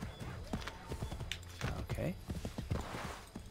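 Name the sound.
horse hooves clip-clopping in the video game Assassin's Creed 3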